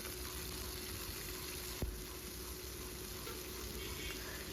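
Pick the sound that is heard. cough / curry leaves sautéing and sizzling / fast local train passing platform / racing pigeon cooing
curry leaves sautéing and sizzling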